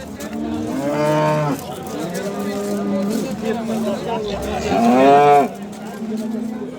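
A cow at a livestock market lets out two long, loud moos a few seconds apart, with people talking and crowd murmur underneath.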